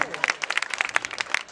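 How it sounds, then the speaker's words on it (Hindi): A politician gets a short, brisk burst of clapping from a small audience at a Teacher's Day stage event, with sharp, uneven claps lasting under two seconds. "तालियां नेताजी के लिए।"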